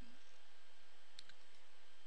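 A single computer mouse click, close and quiet, as a setting is toggled in Realflow 2015 simulation software, with a short second tick just after and faint room hiss around it.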